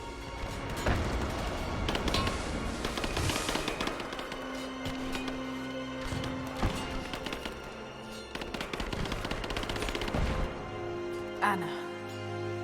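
Pistol gunfire in the video game Rise of the Tomb Raider, rapid cracking shots in quick bursts mixed with loud game effects and chaotic combat noise, close and continuous, with people talking over parts of it.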